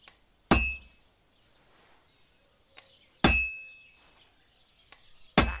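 Blacksmith hammering metal on an anvil in Kingdom Come: Deliverance 2: three loud, ringing metallic strikes spaced a few seconds apart, each decaying slowly, with faint quiet ambience between blows.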